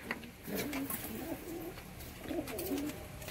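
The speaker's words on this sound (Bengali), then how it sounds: "দোয়াশ একদম পায়রা, আবলুক পায়রাও বলে অনেকে, মেলডাঙ্গার পায়রা" Giribaj pigeons cooing in a loft: soft, low rolling coos in two close phrases over a faint steady background, with no talk.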